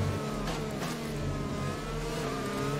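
An F1 car's engine howls at full throttle on the Abu Dhabi circuit in F1 2020, a Renault racer under steady high revs, loud, continuous and close, with no talk over it.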